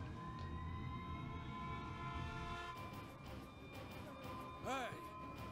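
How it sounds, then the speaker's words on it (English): A siren wails in Xenoblade Chronicles: Definitive Edition, a steady alarm tone under a dense game soundscape with rising swept tones near the end, while voices talk over it. "Hey, this siren, it sounds different."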